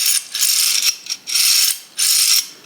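Hazet pliers wrench with its adjustment lever pressed, giving three loud bursts of rapid ratcheting clicks from close up, separated by short pauses, with no other sound.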